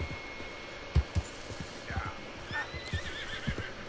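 A horse in Red Dead Redemption 2 whinnies and snorts while hooves clop in an irregular rhythm, fairly close, with a high steady tone running underneath.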